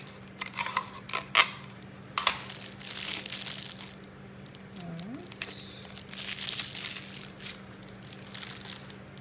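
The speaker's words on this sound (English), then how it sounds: "as usual I just use a little tape to attach" Tape is pulled and pressed on while a piping bag with a Wilton 102 tip is readied for decorating sugar cookies: close crinkling and rustling with a few sharp ticks and crackles, no talk.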